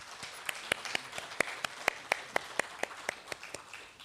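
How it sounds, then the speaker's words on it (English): Sparse, evenly spaced claps ring out from an audience as guests come up to the dais at an academic curtain-raiser event, each clap sharp and distinct in a modest room. "Can we have a big round of applause, please?"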